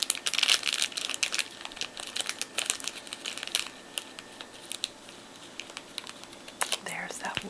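A package wrapped in a paper bag and tissue paper is opened by hand, with rock candy inside. Close, crisp crinkling and rustling comes in irregular bursts, busy early on and then sparser, with faint whispery sounds at times.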